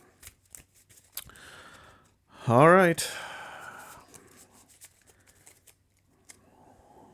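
A deck of Marvel Champions cards is shuffled in one brief riffle-and-bridge burst at close range, with a few soft card taps and a short spoken remark around it.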